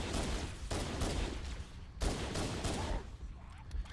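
Rapid pistol shots ring out in Halo CE in a fast, dense volley over about four seconds, with the sounds of battle in the background.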